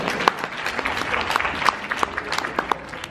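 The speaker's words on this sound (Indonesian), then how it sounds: "Tepuk tangan boleh gak sih?" Audience applause at the Ideafest 2019 event, steady clapping from a crowd throughout with scattered sharper claps standing out.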